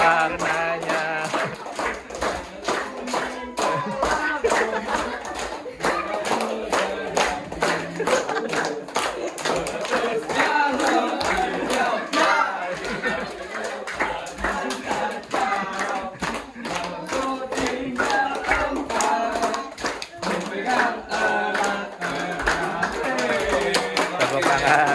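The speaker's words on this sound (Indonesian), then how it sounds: "Tepuk tangan." Hands clap over and over in a lively, irregular rhythm, close and loud. Voices of children and an adult talk and call out throughout.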